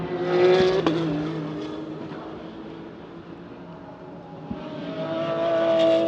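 Porsche 992 and other racing cars at the Hockenheimring during a sprint race: a loud engine note rises and falls as the cars pass, with a quieter lull before the roar builds again.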